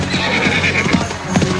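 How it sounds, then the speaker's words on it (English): A horse whinnies loudly while galloping hooves clatter underneath, a short dramatic sound effect for a storybook scene of a drunken soldier riding past a market stall. "He was so drunk that he couldn't control his horse."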